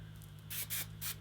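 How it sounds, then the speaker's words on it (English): Hairspray hisses from an aerosol can onto hair in three short bursts, close and fairly soft, over a faint steady hum. "I'm just gonna spray my hair, lifting up at the root"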